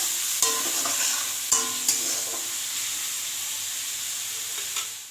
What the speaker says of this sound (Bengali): এই দেখুন, ভাজা হচ্ছে পেঁয়াজগুলো।